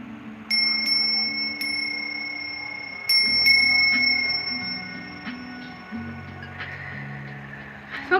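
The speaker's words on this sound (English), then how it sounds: "Because I'm gonna ring the bell, okay?" A small bell is struck several times, each strike ringing out bright and clear before fading, with a voice talking quietly beneath the tones.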